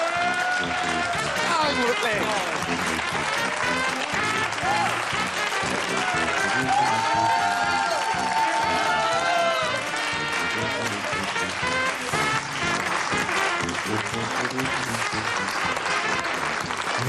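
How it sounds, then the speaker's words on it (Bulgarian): A studio audience on a Bulgarian TV game show applauds hard and without a break, dense clapping with cheers, while a host talks loudly over it. "Силни аплодисменти!"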